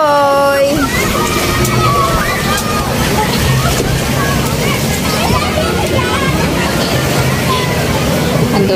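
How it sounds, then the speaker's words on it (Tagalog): Seawater sloshing and splashing at Matabungkay Beach in Batangas, close and loud with wind noise, while people talk over the water. "Andito kami sa dagat."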